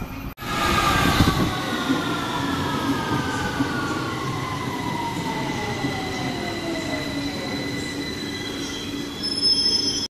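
A London Underground train rolls through the tunnel near Camden Town, its wheels letting out long, loud, sliding squeals that rise and fall over a steady rumble for the whole stretch, with no talking.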